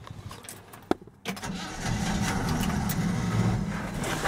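An old car with its brakes and hardware replaced starts cold at about 30 degrees with the choke left on: a sharp key click and a brief crank, then the engine catches and settles into a steady, close, rumbling idle.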